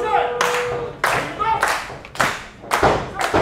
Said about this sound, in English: The crowd trying to get behind Reptilio here.